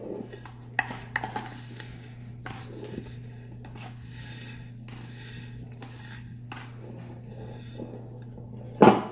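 Homemade laundry soap powder being mixed with a plastic scoop in a container, soft dry scraping and gritty rubbing close by, a few light taps early on and a sharper knock at the end, under a low steady hum.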